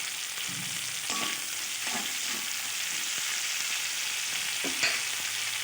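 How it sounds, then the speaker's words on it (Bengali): Spice masala with a few green chillies fries in oil in a pan, giving a constant close sizzle with scattered stirring scrapes and soft clinks, no voices over it. "মশলাটা কষানো হয়ে গেছে এবার আমি এতে দিয়ে দিচ্ছি গোটা কয়েকটা কাঁচা লঙ্কা"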